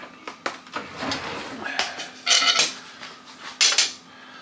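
Metal spoons clink and rattle as one is picked out of the cutlery in a home kitchen during sausage gravy making, several sharp close clatters in short bursts with quieter handling between.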